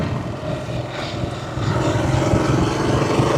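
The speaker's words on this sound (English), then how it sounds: "Oh my gosh, look at that. An airplane." A propeller airplane passes overhead, its steady droning engine loud and growing slightly stronger over a few seconds, with no talking.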